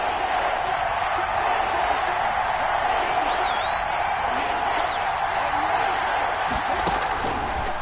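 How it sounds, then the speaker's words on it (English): A video game crowd roars in a simulated American football stadium ahead of a big third down, producing a steady dense wash of cheering throughout, with a commentator's voice heard faintly over it. "the crowd getting into it as we come up on a big 3rd down"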